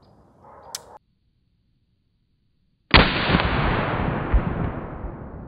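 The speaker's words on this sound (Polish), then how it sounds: "No często się nie strzela z czarnego prochu. Z obrzyna." A sawed-off black powder shotgun fires a single loud, close blast that rolls on into a long, booming decay after a brief low noise and a silent pause.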